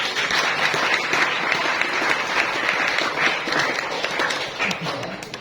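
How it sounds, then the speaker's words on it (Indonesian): A large audience applauds steadily for several seconds, a dense wash of many hands clapping with no pause, fairly loud and close. "Tepuk tangan dulu."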